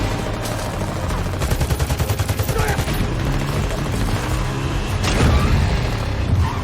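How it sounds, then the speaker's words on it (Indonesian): Rapid gunfire crackles through a film shootout during a car chase, bursts of fast repeated shots over engine rumble and booming impacts, dense and loud throughout. "tembak-tembakan"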